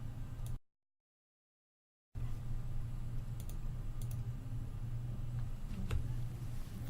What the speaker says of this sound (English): So now let's type this into the dialog.